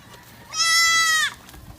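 An Anglo Nubian goat in a backyard farm gives a single loud, nasal bleat lasting under a second, clear and close against quiet surroundings.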